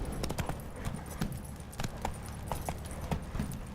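A horse's hooves clip-clop at a quick gallop in The Witcher 3 video game, with sharp, fairly close hoof strikes in an uneven running rhythm and faint jingling tack, no talking.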